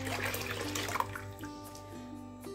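Two litres of milk pour steadily into a cooking pot, a continuous liquid gush with a faint splash and a ringing tonal hum from the vessel, close and fairly loud throughout.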